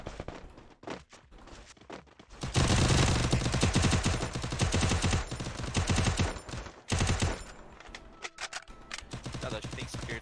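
Video game gunfire crackles in dense, rapid bursts, loud and sustained after an initial quieter stretch, with occasional pauses and faint talk mixed in.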